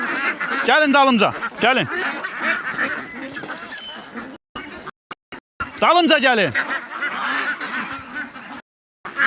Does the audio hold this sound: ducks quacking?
yes